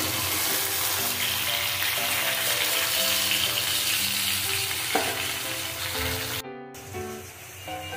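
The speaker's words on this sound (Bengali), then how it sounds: "এবার ঝিঙেটা আমি ভালো করে কষিয়ে নিয়েছি" Chopped ridge gourd frying in oil in a pan for a poppy-seed dish, with steady loud sizzling and repeated stirring scrapes, a faint tune underneath, and a brief pause near the end.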